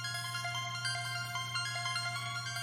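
An old beat sample resampled and time-stretched in FL Studio plays as a steady looping texture of sustained tones with soft rhythmic pulses over a constant low hum, at moderate level with no voices.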